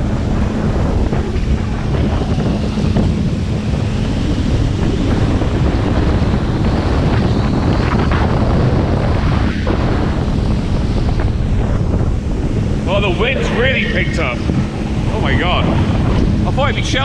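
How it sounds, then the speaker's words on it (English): Strong wind buffets the microphone on a boat ride across open water, with steady loud rumble throughout and faint higher tones near the end. "It's gonna be a windy ride home."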